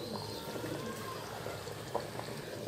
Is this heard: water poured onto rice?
yes